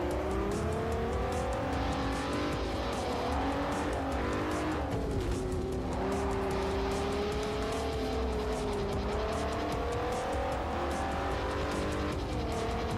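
Racing car engines from a Ferrari 599 and a Koenigsegg in the video game Forza Motorsport 4, a loud continuous high-revving whine that rises and falls through gear changes and corners, with tire squeal mixed in.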